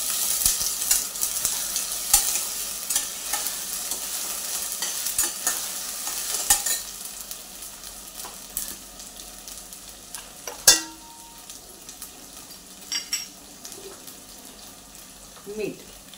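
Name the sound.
ginger garlic paste being sautéed with onions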